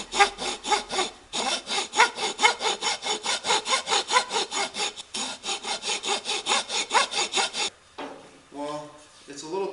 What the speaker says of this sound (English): So, I'm just going to take a file, start cleaning it out.